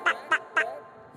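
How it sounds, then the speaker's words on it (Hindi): A duck quacks three times in quick succession from a Hindi nursery rhyme, with short, moderately faint calls on their own and a brief trailing sound at the end. "बत्तख करती क्वैक क्वैक,"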